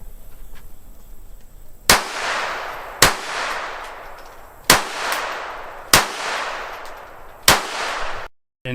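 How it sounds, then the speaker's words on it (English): Five sharp, loud unsuppressed pistol shots, spaced a second or so apart, each with a decaying ring, fired outdoors at a range. "I'm going to start off with her shooting her pistol non-suppressed"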